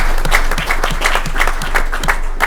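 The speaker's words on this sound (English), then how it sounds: "So let's give him a round of applause." Applause from an audience at a city council Committee of the Whole meeting, dense steady clapping that carries evenly through the whole span at moderate loudness, with no voices over it.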